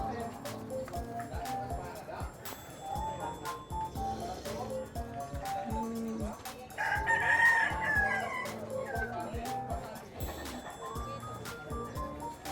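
A rooster crows loudly nearby while hens cluck throughout, with people talking and general barnyard bustle underneath at a livestock stockyard.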